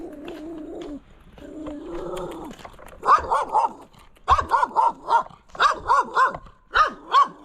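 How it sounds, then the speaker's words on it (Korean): A small dog barks repeatedly outdoors near a museum, a series of sharp, fairly close yaps in quick bursts, preceded by a few lower whining or cooing sounds. "강아지가 있어"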